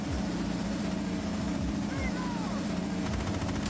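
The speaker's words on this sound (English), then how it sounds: "It's the helicopter bug." A looping helicopter sound bug in a racing video game, a steady rotor-like thumping drone with engine whine and clattering pulses running the whole time.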